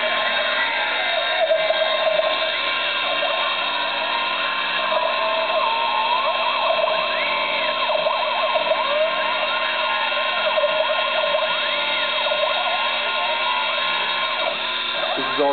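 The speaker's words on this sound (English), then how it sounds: "This is all currently being cut on a stock Sherline spindle." A stock Sherline spindle on a CNC mill run by EMC2 cuts with a steady high whine and shifting tonal squeals, loud and constant throughout with no pauses.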